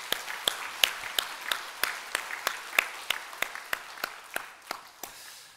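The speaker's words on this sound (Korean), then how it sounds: "우리 함께 박수하겠습니다" A church congregation applauds at a Parents' Sunday service, with sharp separate claps ringing at a steady pace over a soft, thin wash of background clapping throughout.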